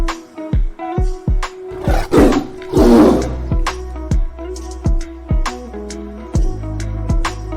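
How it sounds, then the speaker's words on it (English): A tiger roars loudly and close in repeated growling bursts, layered over a rhythmic, pulsing musical beat. "T for tiger."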